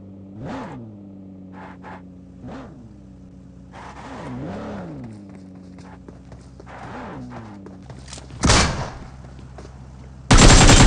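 A car in the PUBG Mobile video game drives with its engine revving up and down in repeated waves. Short bursts of gunfire-like noise and a loud blast come near the end.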